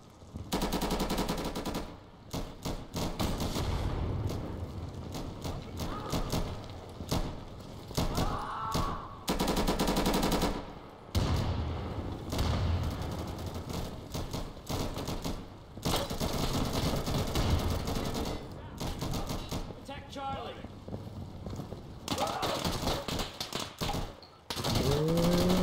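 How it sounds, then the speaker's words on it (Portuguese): Rapid bursts of automatic gunfire and single shots in the video game Insurgency, loud and close, broken by brief pauses and distant pops across a long firefight, with no talk. "Não é tanto tiro ali que eu nem sei"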